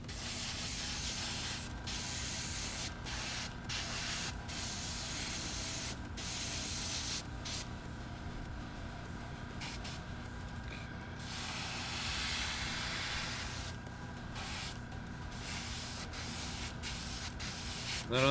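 An airbrush sprays paint onto a scale model in a steady, continuous hiss that runs the whole time at an even level, with brief gaps where the flow pauses.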